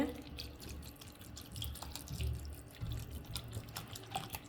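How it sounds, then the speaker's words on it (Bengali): Water poured into a pot of khichuri mix, a close, uneven splashing trickle that swells and ebbs for a few seconds, with no voices over it. "তারপরে পর্যাপ্ত পরিমাণে পানি দিয়ে"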